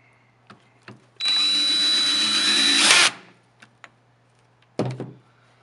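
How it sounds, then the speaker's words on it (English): A power drill drives a screw back in during a motor and wheel replacement, a loud, steady whir lasting about two seconds, surrounded by a few clicks and knocks of handling and another short burst near the end. "Add your screw back."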